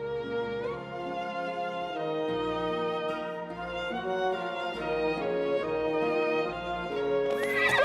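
Horses in the video game Masquerada neigh and whinny in long, tonal, wavering calls that overlap one another, fairly loud and continuous, with no speech.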